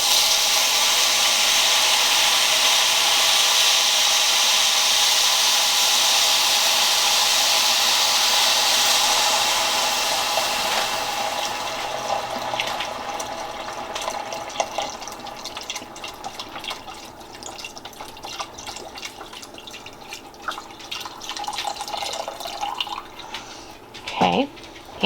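Water poured into a hot pot of toasted rice for pilaf, a loud hissing sizzle and burst of steam at first that fades into quieter bubbling and small clinks, with no talking.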